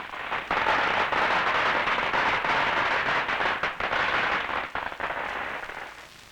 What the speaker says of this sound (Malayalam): പൊട്ടട്ടെ പടക്കം പൊട്ടട്ടെ